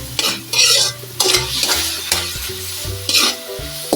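Tomatoes stirred into a sizzling sarciado pan, loud close frying hiss broken by rhythmic scraping strokes of a spoon against the pan, with no voices.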